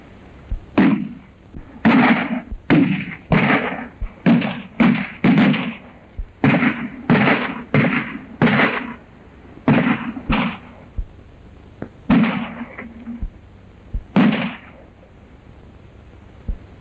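Gunfire in a 1932 classic western film, a dozen or more sharp rifle and pistol shots fired in an uneven volley, some in quick pairs, ringing out over a low background hiss of old film sound.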